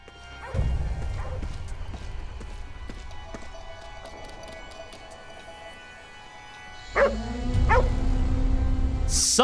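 A dog in Ghostwire: Tokyo gives a few sharp barks and yips over a steady game soundscape, with a busier burst of clattering, footstep-like noise near the end.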